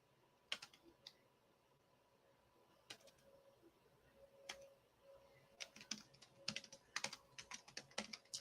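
Keystrokes on a computer keyboard, close and quiet, starting as sparse isolated taps and building into quicker irregular bursts of typing toward the end.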